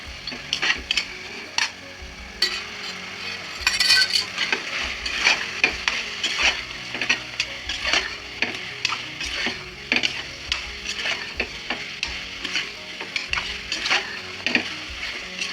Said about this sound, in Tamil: இதையும் இதில் நல்லா மிக்ஸ் பண்ணி வச்சுக்கலாம்.